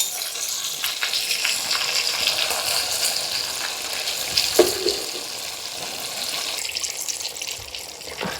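Fish for a dum biryani frying in a pan, a dense, fairly loud sizzle and bubbling crackle that runs throughout, with a short louder splash near the middle and no speech.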